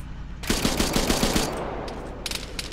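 Automatic rifle fire in the video game Arma 3 during a firefight, a rapid burst of close, loud shots followed by a few scattered single cracks.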